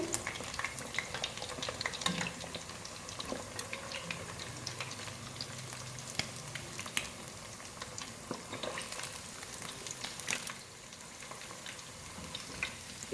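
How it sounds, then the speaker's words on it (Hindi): Pieces of spicy masala fish fry in hot oil over a medium flame, giving a steady close crackling sizzle with scattered pops and spits throughout, no voices. "इसी तरह 3 से 4 पीस और रह गए हैं, उसको भी हम फ्राई करेंगे।"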